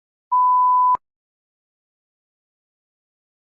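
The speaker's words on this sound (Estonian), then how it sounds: "ma piiksutan" A single clear electronic censor beep holds steady for about two-thirds of a second, followed by silence and a brief cut-off sound at the very end.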